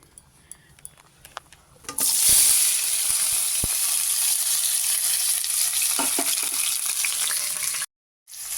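Chopped onions fry in hot mustard oil, and after a quiet stretch of small knocks a loud, steady, close sizzle starts and continues until it cuts off abruptly near the end.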